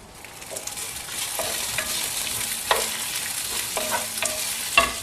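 Mint leaves sautéing for a Tamil kovakkai (ivy gourd) gravy sizzle steadily in a pan, with scraping spatula strokes and a few sharp clinks against the metal rising above the continuous frying hiss.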